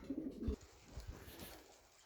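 Soft, low cooing from racing pigeons at a national pigeon show in Katowice, Poland, a couple of brief throaty calls near the start, then quieter murmuring with faint background noise.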